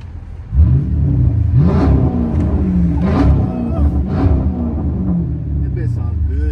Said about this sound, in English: Put this bitch in neutral, hit the gas.